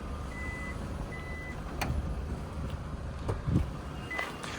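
A 2011 Toyota Vellfire's power sliding door gives a couple of short warning beeps, followed by soft mechanical clunks and thuds as it moves, against a low, steady background rumble.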